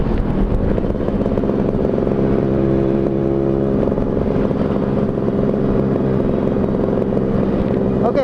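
A motorcycle fitted with an RC series exhaust rides nearby, its steady droning engine note continuous and loud with a rough, clattering texture throughout.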